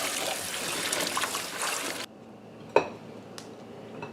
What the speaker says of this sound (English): I'm just going to sit here and rinse these off.